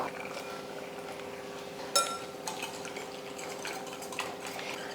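Egg mixture with chopped onion and green chillies being beaten in a bowl, a steady close clinking and scraping of utensil against the bowl, with one sharper knock partway through.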